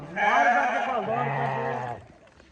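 An Arashan ewe gives one long, wavering bleat, loud and close, then falls quiet.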